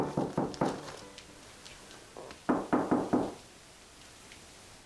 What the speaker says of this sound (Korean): 문을 두드리는 소리도 구름이에겐 중요한 신호입니다.